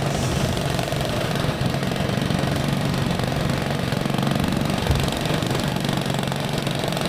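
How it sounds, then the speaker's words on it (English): A jumping jack compactor, or whacker, runs steadily on a trench excavation site for electrical conduits, with a loud, continuous rattling engine drone close by and no voices over it. "That's the whacker. I call it a whacker. A lot of people call it a jumping jack."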